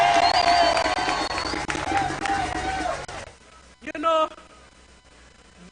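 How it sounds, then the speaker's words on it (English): Loud crowd applause and cheering at an outdoor street event stage fill the first three seconds, then cut off abruptly, leaving a brief voice and quiet. "let's give Snakey a round of applause"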